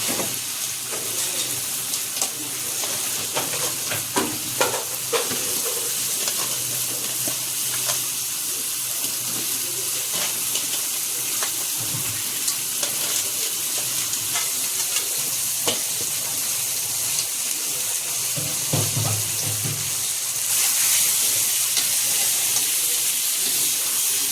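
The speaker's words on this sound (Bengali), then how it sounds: "মশলা কষানো হয়ে গেছে উপরে তেল উঠছে এখন আমি কাঁকড়াগুলি দিয়ে দেবো" Crabs go into a spiced masala frying in oil for a Bengali crab curry, producing a dense, steady sizzle and hiss with occasional stirring scrapes and soft bubbling, the frying noise swelling near the end, no talking.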